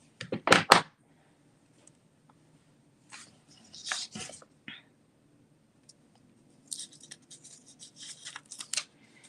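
Masking is peeled off a paper background in quiet, close bursts: a sharp rip at the start, a few scattered tearing and crinkling sounds after it, then a longer run of peeling near the end.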